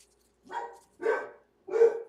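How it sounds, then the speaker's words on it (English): Pet dogs barking at home, three short separate barks about half a second apart, moderately close and clear, with no talking over them. "sorry, my dogs want to say hi."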